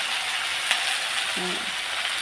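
Potatoes frying in a pan with salt and turmeric, a brief steady sizzle close by, with a faint clink partway through and no talk.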